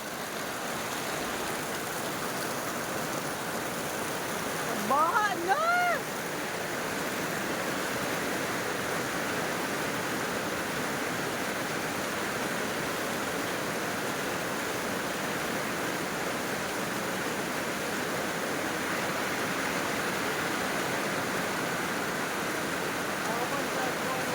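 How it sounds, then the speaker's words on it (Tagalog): Steady, dense hiss of heavy rain with rushing floodwater underneath in Calinan, Davao City, constant throughout, with a brief burst of voices or whistling near the start. "Kusog jud kayong ulan diri ah"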